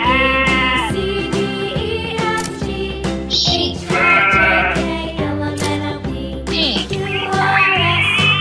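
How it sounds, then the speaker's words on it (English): A goat bleats loudly and up close, a series of wavering cries repeated several times over a steady backdrop, with no talk. "Goat."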